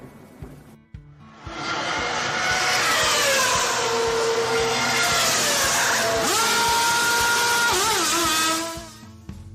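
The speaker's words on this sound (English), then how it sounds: "A crewman polishes the windshield as Holland moves away just 67 seconds after he stops" A race car pulls away from a pit stop with a loud, close engine roar that rises in pitch through the gears over several seconds, then fades.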